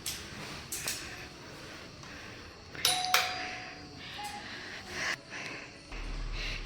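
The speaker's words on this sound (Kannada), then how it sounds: "ಬೆಲ್ ಮಾಡೋ" A doorbell at a house entrance during a surprise birthday visit to a friend gives a single sustained electronic chime, moderately loud, amid light shuffling and footstep noises with no talking.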